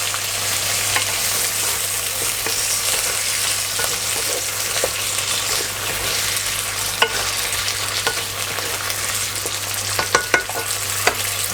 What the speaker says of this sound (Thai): เราก็ผัดแค่พอให้มันสุกๆนิดนึง กรอบกรอบ